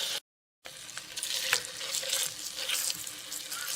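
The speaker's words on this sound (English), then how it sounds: "we're going to slide those chops in here" Sous vide pork chops slide into a hot skillet on medium-high heat. After a moment of silence, a steady, close crackling sizzle with sputtering pops continues throughout.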